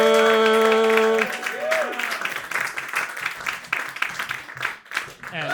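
Audience applause at a roast battle comedy show, a sustained wash of clapping and crowd noise that follows a short musical sting, steady and fairly loud with a few scattered cheers near the end.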